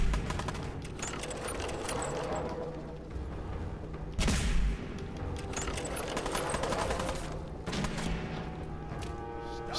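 Dense gunfire from the video game Fallout 4 sounds loud and continuous, with a sharper burst near the middle and heavy layered blasts throughout.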